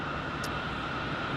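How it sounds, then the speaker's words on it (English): American Airlines Airbus A319 airliner at Phoenix Sky Harbor International Airport, a steady broadband jet roar with a constant whine in it, sustained and fairly loud, with no talk. "an A319 for American Airlines"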